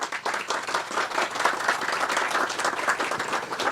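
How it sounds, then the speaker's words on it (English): A round of applause greets the Deputy Premier at a subsea cable landing ceremony, steady dense clapping from a crowd at close range throughout. "Please give him a round of applause"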